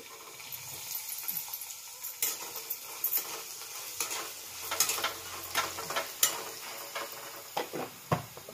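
Peanuts dry-roasting in a pan with a pinch of salt, stirred in a steady scraping rhythm with soft sizzle and occasional clinks of a spatula against the metal, close and moderately loud, no voices.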